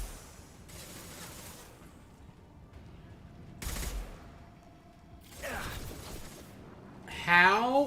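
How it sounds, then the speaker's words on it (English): Gunfire from the video game Mass Effect 2 on Insanity difficulty comes in separate bursts of shots with impacts and mechanical clatter, heard under a player's speech. "How is he shooting me through that crate?"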